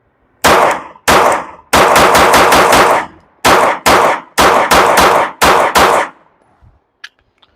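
Rapid shots from an Archon Type B Gen 2 pistol loaded with Freedom Munitions ammunition ring out loud and close, fired in quick clustered strings of several bursts with brief pauses between volleys.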